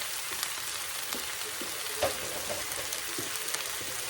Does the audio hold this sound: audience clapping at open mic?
no